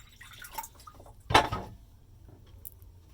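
Water is tipped out of a flat dish holding ochre earth pigment, a brief splashing pour at the center among quiet clinks and small drips, close and otherwise near silent.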